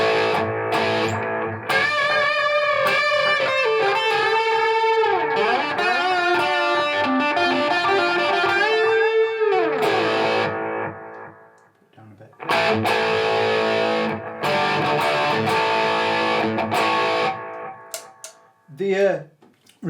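Electric guitar played through a Line 6 Catalyst amp with spring reverb, loud and up close: sustained chords and sliding notes with a short gap partway through, then renewed strumming ending in a few plucked notes.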